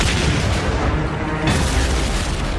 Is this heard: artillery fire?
yes